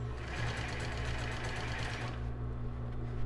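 Sewing machine stitching a straight seam along the edge of a plus-size bra with raw jaraguá elastic, a steady close mechanical whir running throughout with no talking.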